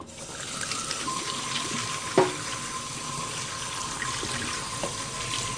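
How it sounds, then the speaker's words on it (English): Cold tap water running steadily over cooked potatoes for potato salad, a continuous hiss and splash in a sink, close and moderately loud, with one brief clink partway through. "So we do that with running cold water."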